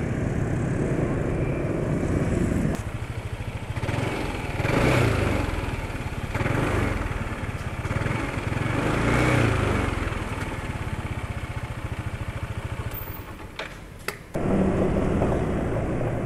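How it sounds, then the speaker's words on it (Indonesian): A steady motorcycle engine, running on Fastron Platinum 10W60 oil, drones continuously with a rough, throbbing texture, fairly close and loud, with no talking. "Suara mesin sekarang beda dari ketika berangkat dari rumah"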